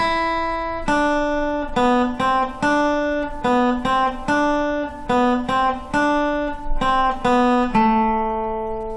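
Single plucked acoustic guitar notes pick out the simple melody of the folk song Kalinka, evenly spaced and clear, ending on a ringing note, with no voices.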